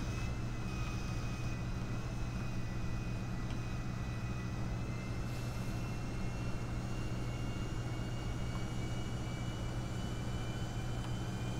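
A fixed-wing airplane takes off in GTA 5, a continuous engine drone that stays steady and fairly faint across the whole stretch, with no voices.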